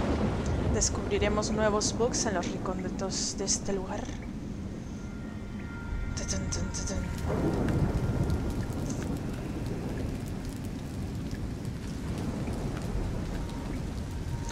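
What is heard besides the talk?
thunderstorm with rain in video game Nioh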